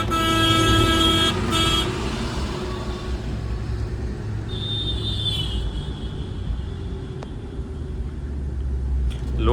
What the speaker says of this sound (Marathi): लोडेड गाड्यांमुळे ट्रॉफिक होती.